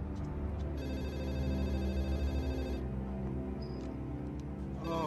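A telephone rings on a call to a sheriff's department in a horror film, a steady electronic ring under a low humming background, sustained for a couple of seconds and then fading.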